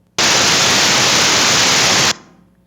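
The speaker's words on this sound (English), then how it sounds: "Instead of a sine wave, it is a noise." Harsh broadband noise generated from a sequence of random numbers, as a stand-in for a sine wave, switches on abruptly, holds loud and steady for about two seconds, then cuts off with a brief faint tail.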